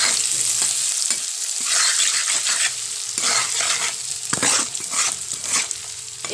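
Potatoes frying in hot oil with cumin and turmeric while being stirred, a steady close sizzle broken by regular scraping and clinking strokes of the spoon against the pan.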